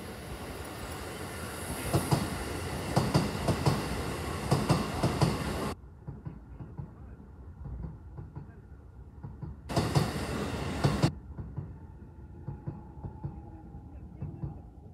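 A Keisei 3100-series train, car 3157-8, on a J-TREC delivery run rolls past with a loud broadband rumble and clatter for several seconds, dropping to quieter ambient noise, with another brief burst of passing noise later.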